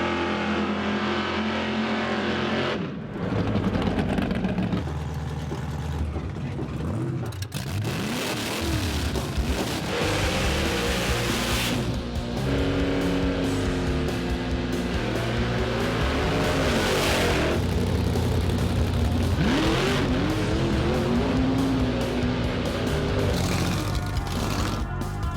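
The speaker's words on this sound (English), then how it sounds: "It's 1982 WB Kingswood Ute with a 454 and a 16-1 supercharger" A 1982 WB Kingswood Ute drag car with a supercharged 454 engine rumbles loudly, revving and surging repeatedly with a deep, lumpy idle between blips over a long stretch.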